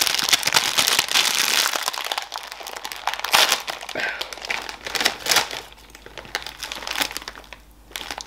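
A crinkly bag of Easy Peasy chips is opened, with loud close crackling and rustling plastic in bursts, thinning out into softer crinkles toward the end.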